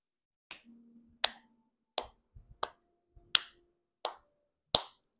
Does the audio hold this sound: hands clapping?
yes